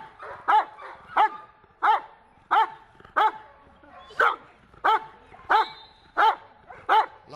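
A dog barks repeatedly at a steady pace during attack training, about a dozen sharp, loud barks close by.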